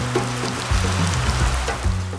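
Rain falling outdoors on a river island in Guyana, a steady dense patter with a low steady hum beneath, continuous and fairly loud throughout with no talk.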